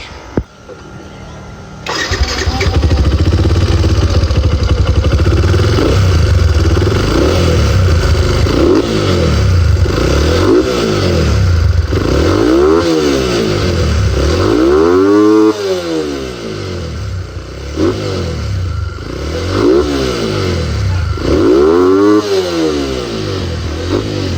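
A motorcycle fitted with a full exhaust muffler starts, then idles loudly up close and revs repeatedly, each throttle blip rising and falling in a series of sharp swells.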